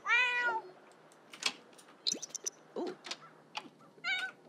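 A Sims 4 cat meows for food, giving several short, close meows in succession with brief pauses between, clear and alone without talk.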